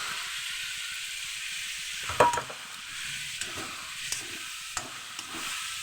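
A spice paste of cumin, coriander, green and dried chili, turmeric, ginger and tomato frying in a pan alongside potatoes: a steady close sizzle with a sharp clatter as it goes in, then occasional light stirring knocks, no voices.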